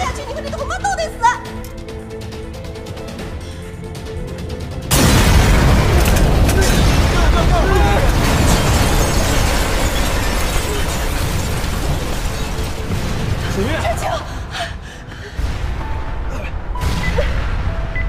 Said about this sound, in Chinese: 军火库马上爆炸了！